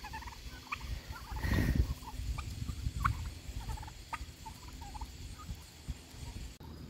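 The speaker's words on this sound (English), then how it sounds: "Turkeys." Backyard turkeys gobble in short rattling calls scattered over low rumbling ambient noise, close by, with no talking.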